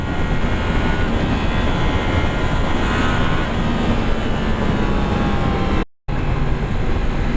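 A 2017 Yamaha MT-09 or MT-10 motorcycle engine revs hard to high rpm as it accelerates, with a loud, continuous roar mixed with wind rush and a brief dropout near the end.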